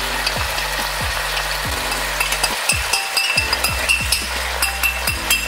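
A soft mixture for razor clams sizzling loudly in a hot pan, a steady close frying hiss broken by repeated clinks and scrapes of stirring, with no talk.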